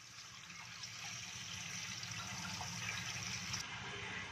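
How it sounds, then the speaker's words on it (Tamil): Water runs steadily through a colander as potatoes are rinsed, a soft continuous splashing and trickle that stays even for a few seconds, faint and with no talking. "தண்ணி கீழே போயிடும், நம்ம அலசத்துக்கு ஈஸியாக இருக்கும்."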